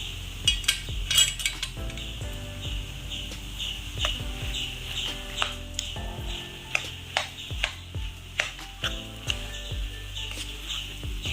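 A spatula mixes mashed potato into a kurma curry in a pan, giving repeated scraping strokes and sharp metallic clinks in an uneven rhythm, close and moderately loud, with no talking.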